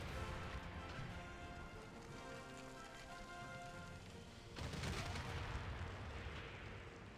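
Heavy naval bombardment from a battleship fleet striking a city in Civilization VI, a dense continuous rumble of explosive impacts that swells louder and broader partway through.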